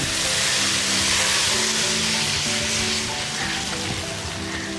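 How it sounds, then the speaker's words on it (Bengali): Hot water hits sizzling spice paste in a pan for a Bengali fish curry, a loud, dense, continuous hiss of steam and bubbling that eases slightly toward the end, with a faint steady hum underneath. "এবারে একটু নাড়াচাড়া করে নিয়ে দিয়ে দেব করে রাখা গরম জল"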